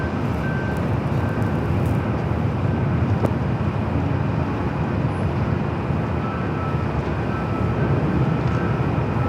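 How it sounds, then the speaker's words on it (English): A Delta Airbus A350 taxiing at LAX for takeoff on runway 24 left gives off a continuous, even jet-engine roar and whine that holds steady throughout with no voices. "Should be seeing this Delta A350 heading over here for a takeoff on the 24 left."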